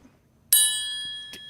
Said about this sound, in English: There's a triangle on the show, friends.